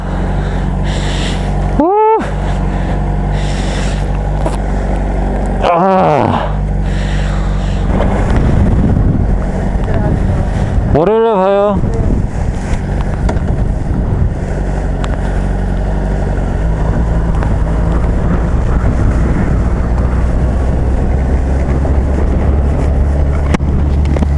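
Strong wind roars across the microphone while riding a 600RR motorcycle, a constant loud rushing buffet with engine drone beneath and a few brief rising whooshes of passing vehicles.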